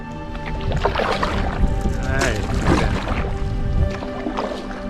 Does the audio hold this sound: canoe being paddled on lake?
yes